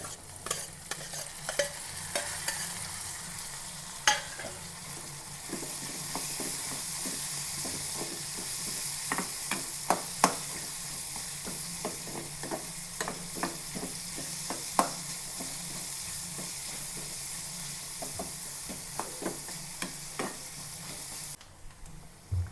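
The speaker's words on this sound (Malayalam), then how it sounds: "നമ്മുടെ ഇഞ്ചിയും ഉള്ളിയും പച്ചമുളകും എല്ലാം നന്നായിട്ട് മുരിഞ്ഞ് വന്നിട്ടുണ്ട്" Ginger, shallots and green chillies sizzle steadily in hot oil while a spoon stirs and scrapes the pan with sharp intermittent clicks, close and fairly loud, no talking.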